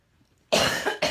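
A single harsh cough bursts out after a moment of quiet, followed by a shorter second cough, close and loud.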